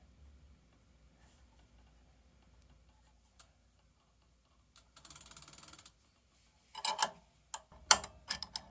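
Ratchet tightening the left crank arm on a Juiced HyperScrambler 2 e-bike, heard as faint scattered ticks that give way to a short run of rapid clicks and then a few louder, sharper clacks near the end.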